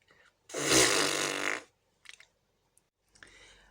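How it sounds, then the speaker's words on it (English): A giant cartoon fart sound effect in a children's story: one loud, long, rumbling blast lasting about a second, followed by a few small sputtering pops and a short trailing toot. "First there was a rumble, then a grumble, and a gurgle, before Amelia let out a giant fart"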